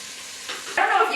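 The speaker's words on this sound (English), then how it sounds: "The butter is cooking up quite nicely" Butter melting in a pot for Epcot's Le Cellier cheddar cheese soup, a soft broadband sizzle that grows louder and brighter partway through as the pan heats up, steady and close with no talking.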